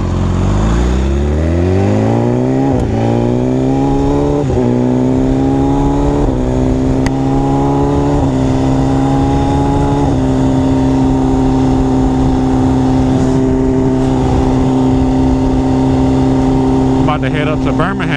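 A sport motorcycle engine revs up and accelerates during a ride, rising through several gear steps before holding a loud, steady drone close to the microphone.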